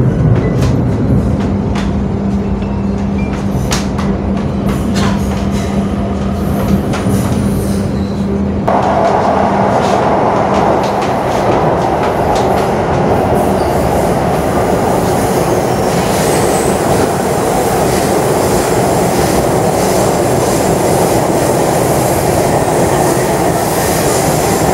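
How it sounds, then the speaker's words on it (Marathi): A Pune underground metro train runs between Vanaz and Shivajinagar, with a loud continuous rumble of wheels and motors, heard from inside the car, rising in pitch and roar partway through the run. "अंडरग्राऊंड मेट्रो ट्रेनचा स्पीड एलिव्हेटेड मेट्रो ट्रेनपेक्षा अधिक असल्यामुळे पिंपरी चिंचवडला जाणारी मेट्रो ट्रेन जलद गतीने शिवाजीनगर मेट्रो स्टेशनला पोचते"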